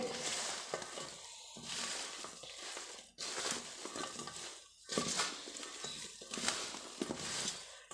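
Mango pickle being stirred and mixed in a metal vessel, giving repeated scraping, rustling and wet squelching strokes in bursts, close and fairly loud, with no talking.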